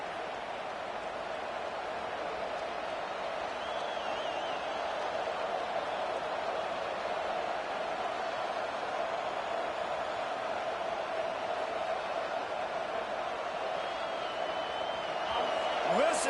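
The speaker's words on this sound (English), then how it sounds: "Listen to this crowd just shaking the girders of this place, trying to help their defense." A home football crowd at Auburn roars steadily throughout as fans make noise to help their defense, a broad sustained wash of cheering that swells slightly toward the end under a commentator's voice.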